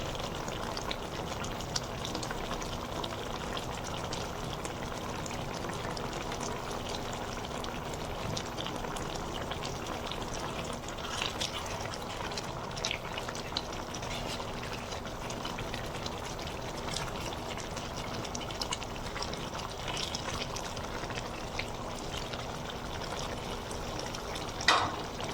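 Tilapia curry with taro simmering in a pan with coriander leaves added, giving a steady low bubbling sizzle that runs unbroken throughout, with no talk.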